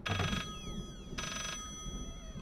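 A telephone rings in the horror video game Layers of Fear. Two short, bright ring bursts are separated by a pause over a low background drone.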